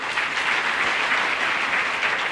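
Steady, dense applause from a lecture audience fills the whole stretch at an even level, many hands clapping together with no voices on top.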